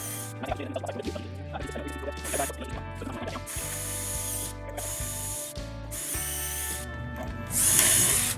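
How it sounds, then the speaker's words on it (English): A power drill with a right-angle attachment whirs in repeated bursts, starting and stopping as it bores holes through a jig for drawers, with mechanical clicking and ratcheting between runs and a louder final burst. "I just put the right angle attachment on my drill"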